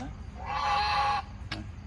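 One drawn-out nasal duck call, fairly close, followed by a short sharp tap against quiet background noise.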